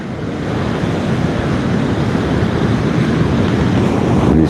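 Strong wind at sea buffeting a kayak while fishing, a loud continuous roar of gusts and wind noise on the microphone mixed with breaking surf and water, steady throughout with no talking.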